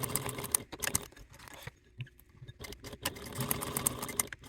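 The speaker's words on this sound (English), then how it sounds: "Then take your piece to your machine, and on the right side, you want to top stitch at a 1/8 seam allowance" Sewing machine top stitching a bi-fold wallet piece: a fast, rattling needle run starts, pauses briefly in near silence, then resumes in a steady mechanical patter, fairly quiet and close.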